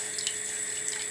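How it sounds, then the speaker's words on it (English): Beer pours steadily into a pan on the hob, a soft continuous liquid stream with a faint fizzy hiss and no talking. "So I'm just pouring in the beer"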